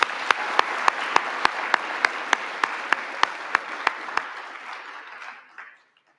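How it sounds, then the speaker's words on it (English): An audience claps together at a Grade 7 induction evening, a steady patter of many hands with sharp individual claps on top, fading out to silence near the end. "And another hand of applause,"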